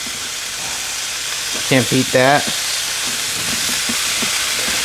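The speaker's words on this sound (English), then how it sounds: "I gotta love the sizzle of bacon in the morning." Bacon sizzles steadily in a pan on a stovetop over high heat, a continuous close crackling hiss that fills the whole stretch, with a brief spoken phrase from a man partway through.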